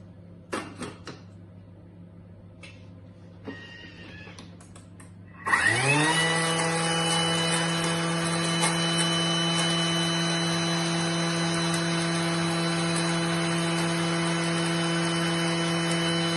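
A kitchen appliance grinds ingredients in one loud, steady burst that starts abruptly after a few faint clinks and runs on evenly to the end.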